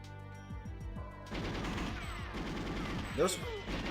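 Gunfire from guards in the video game GoldenEye 007, a quick run of rapid shots that swells into dense overlapping fire, moderately loud over game music.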